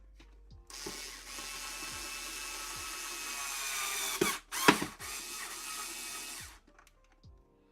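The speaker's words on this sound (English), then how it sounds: "what I'm going to do is start putting the screws in" A power drill or screwdriver drives screws into a Bush record player, with a steady whirring run of about six seconds, a brief louder burst near the end, then short bumps and taps as it stops.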